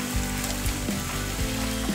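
Ginger paste fries in a pan for mutton curry, with a continuous close sizzle broken by regular scrapes of stirring.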